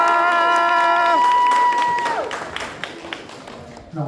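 An audience at the Epitanime Matsuri cosplay contest breaks into applause and cheering as sustained musical tones fade out, a dense crowd wash that then thins into scattered claps.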